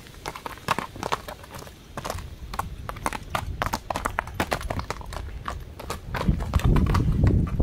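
Many hooves clip-clop in a busy, irregular patter as several horses, mares and foals, move together, with a louder rumble of movement near the end.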